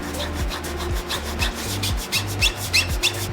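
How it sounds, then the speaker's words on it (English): A brush scrubs lightly across a Jordan 4 Retro Thunder sneaker with rapid, rhythmic back-and-forth strokes. The rasping is close and steady, with no talking. "you don't want to scrub too hard because you can take off a lot of the color"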